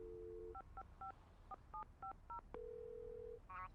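A telephone receiver gives a steady dial tone, then eight short, evenly spaced touch-tone beeps dial a number, followed by a long ringback tone. It is faint and nearby, with no voices.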